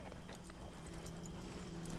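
Horses pull a wagon in the Red Dead Redemption 2 video game, their hooves clip-clopping in a steady rhythm under constant rolling wagon and ambient noise, fairly quiet.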